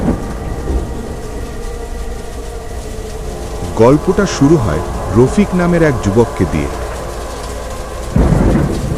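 Rain and thunder fill the background throughout, steady rainfall with low rumbles, while a narrator speaks over it for much of the stretch and a heavier thunder burst rolls in near the end.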